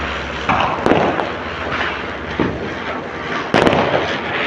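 Diwali and Bandi Chhor Divas fireworks bursting outdoors, with several sharp cracks and pops over a steady fizzing crackle. The louder bangs are spaced a second or two apart, and no one speaks.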